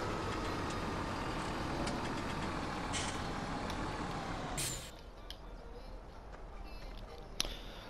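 In Farming Simulator 17, a truck's engine rumbles loudly as it parks, then cuts to a quieter idle after a sharp hiss of air brake, with another brief hiss near the end.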